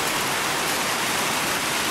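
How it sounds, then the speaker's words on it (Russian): Steady summer rain hissing continuously, a dense even wash of falling drops with no other sounds. "Дождик, он не уходит."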